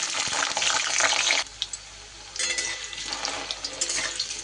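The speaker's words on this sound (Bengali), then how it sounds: "তেলটা গরম হলে সবার প্রথমে আমি আলুটাকে ভেজে নেব।" Potatoes fry in hot rice bran oil, with a close, steady hissing sizzle that pauses for about a second before picking up again.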